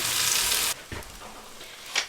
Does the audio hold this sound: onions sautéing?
yes